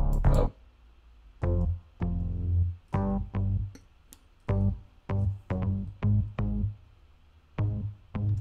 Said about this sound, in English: the bass the first time through, the chorus sounds something like this.